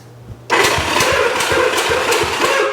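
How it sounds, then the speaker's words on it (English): Honda CB200T motorcycle engine turning over during a thumb compression test, a steady loud churning drone with regular rhythmic pulses from the cranking, close up and without talk. "we're gonna do the old thumb compression test. Turn it on. Just listen for the noise that it makes."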